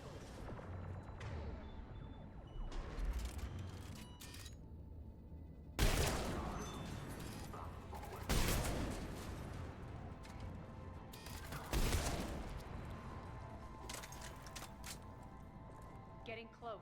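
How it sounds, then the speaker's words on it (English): Heavy booming cannon blasts in the video game Mass Effect 3 go off at intervals over a dense, rumbling battle din, with voices talking throughout. "Those cannons have to be stopped."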